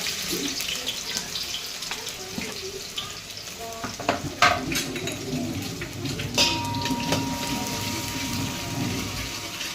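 Finely chopped onion frying in hot oil for a chicken gravy, a steady close sizzle with a few sharper clicks and crackles and some faint background clatter, no talking.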